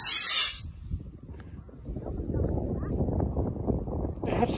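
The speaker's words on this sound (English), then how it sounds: "It had a strange pop, but we got a good flight" A Junior Bertha model rocket lifts off on a D16-4 motor, a loud sharp burst at ignition followed by a steady, broad roaring hiss of exhaust that carries on, with a rough, crackly texture, as the rocket climbs away.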